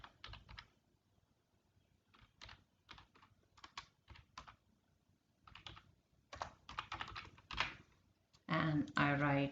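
Keyboard typing on a computer while answer options are entered into a Google Form: bursts of quick key clicks separated by short pauses, close and clear, with a louder final flurry near the end.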